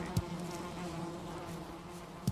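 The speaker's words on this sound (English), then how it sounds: "Oh, bees are happy, but they're not making any honey yet." Bees hum around a beehive in the Valheim video game, a soft, steady buzz lasting a couple of seconds, with a faint click at the start and end and no talk.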